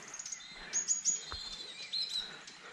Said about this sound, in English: bird in front of me.